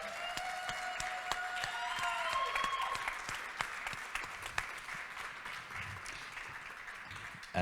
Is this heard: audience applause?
yes